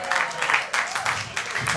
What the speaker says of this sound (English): Oh, fished for some applause.